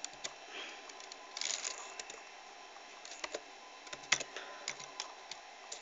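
Quick, uneven clicks of fingers typing on a computer keyboard, close and fairly soft, with a slightly denser flurry of keystrokes partway through and brief pauses between bursts.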